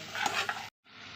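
Masala fries in oil for a fish curry, a brief dense sizzle with a couple of stirring scrapes, then a moment of silence before the frying hiss returns more softly.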